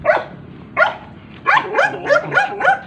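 A large dog barks repeatedly while someone walks outdoors along an esplanade, first two separate barks, then a rapid run of five close, loud barks.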